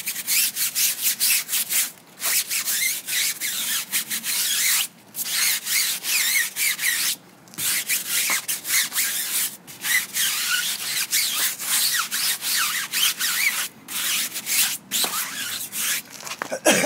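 Steady scrubbing of a dirty tire with Purple Power cleaner, a continuous close brushing rasp with brief pauses between strokes, loud and alone without talk.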